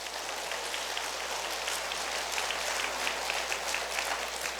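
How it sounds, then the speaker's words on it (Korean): A congregation at a church retreat lecture claps together in a fairly faint, even patter, like light rain, that holds steady for several seconds without speech over it. "박수 치세요."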